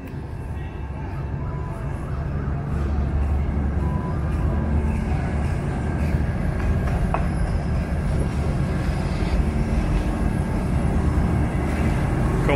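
A train on Thailand's Death Railway in Kanchanaburi rumbles in steadily, a constant low mechanical roar filling the scene at close range with faint voices in the background.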